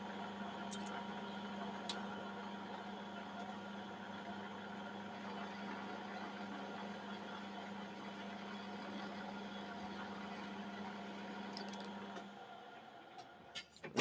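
A metal lathe takes a very light thread-cutting pass during a whistle repair, giving a steady low mechanical hum and whir that runs evenly for most of the stretch, then winds down and falls quiet near the end.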